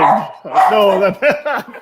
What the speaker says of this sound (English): I knocked on wood and the dog freaked out.